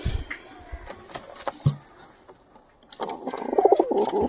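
A bonded pair of pigeons cooing nearby, scattered soft rustles and taps first, then a fuller run of low burbling coos rising toward the end.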